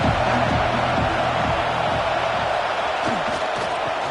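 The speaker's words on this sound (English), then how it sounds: "This crowd bringing the energy and noise early" Loud stadium crowd roaring and cheering at an AKFL football game, Warriors vs Giants, a dense steady wash of noise with no break, and a deeper voice or rumble running underneath.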